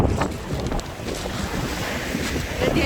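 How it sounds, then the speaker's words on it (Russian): Icy storm wind on the Black Sea coast at Kudepsta in Sochi roars steadily against the microphone in a loud, continuous buffeting rush, with surf from the sea blended underneath. "ну, леденящий ветер."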